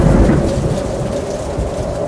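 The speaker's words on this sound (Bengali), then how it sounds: "চারপাশ ঝড়ো হাওয়া আর অবিরাম বৃষ্টির শব্দ" A thunderstorm with gusting wind and steady heavy rain on a dark monsoon night, used as a story sound effect; a dense, continuous roar with a deep rumble of thunder, loud and close, with no voices.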